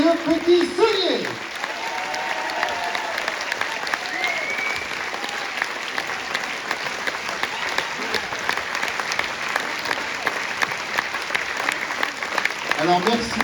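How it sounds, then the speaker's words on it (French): Audience applauding the dance troupe Les Joyeux Petits Souliers at a show in Challans, a sustained, dense wash of clapping from a large crowd lasting throughout, with a voice speaking briefly at the start. "merci d'applaudir très fort les joyeux petits souliers"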